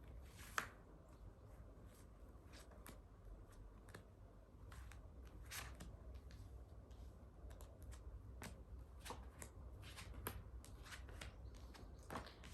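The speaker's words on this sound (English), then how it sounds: "I'm shuffling the cards for you" Deck of cards being shuffled for a pick-a-card reading, with quiet, repeated soft riffles and card taps spread across the whole stretch, close but faint, no talking.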